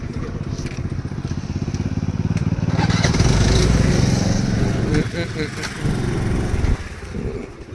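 A motorcycle engine runs close by with a fast, rough putter as the bike is brought in to park near an airport, swelling briefly in the middle while someone talks over it.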